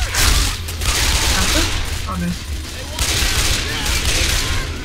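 Dense automatic gunfire in a Left 4 Dead 2 co-op match, a steady loud barrage lasting throughout with brief dips, while players talk over it.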